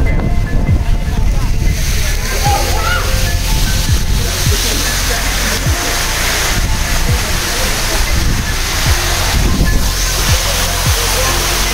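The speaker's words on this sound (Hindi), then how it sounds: "ये ऊपर से डायरेक्ट आ रहा है वाटरफॉल और डायरेक्ट यहाँ पे आके गिर रहा है। बहुत ज़्यादा पानी हो रहा है" A waterfall pours straight down onto a Shivling at Anjani Mahadev near Manali in Himachal Pradesh. The loud, constant rush of heavy water fills the clip, with a few sharp knocks and some wind buffeting the microphone.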